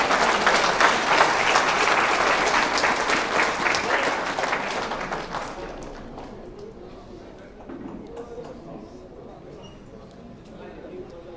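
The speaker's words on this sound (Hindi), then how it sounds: "और जोरदार तालियां एक बार बजा लीजिए।" A seminar audience breaks into loud, sustained applause that gradually fades over several seconds, thinning into scattered claps and room noise as a speaker's voice comes back in.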